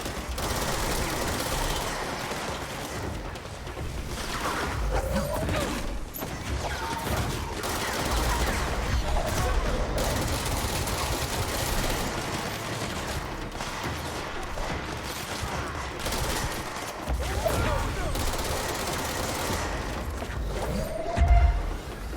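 Rapid gunfire from the action game Control, loud and sustained bursts of shots filling the scene with brief pauses, mixed with mechanical clatter and occasional voice chatter.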